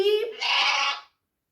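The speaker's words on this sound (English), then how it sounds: "Goat. Goat." A single goat bleats once, loud and close, a wavering cry that cuts off abruptly.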